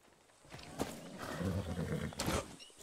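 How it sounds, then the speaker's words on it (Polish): In Far Cry 6, a horse shifts and snorts with hoof clops and a brief whinny amid game ambience, faint and mid-distance, with some background voice murmur. "Hey, a magic horse."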